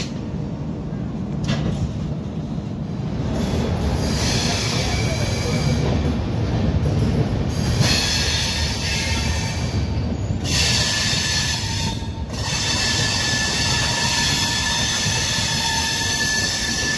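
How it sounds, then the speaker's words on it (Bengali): The Shantiniketan Express, a Howrah to Bolpur passenger train, rolls past with a loud continuous rumble of wagons and wheels, high squealing tones rising from the rails and a brief dip in noise partway through. "ট্রেনটি যাচ্ছে, এটি হচ্ছে শান্তিনিকেতন এক্সপ্রেস"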